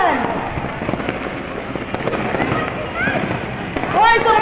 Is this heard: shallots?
no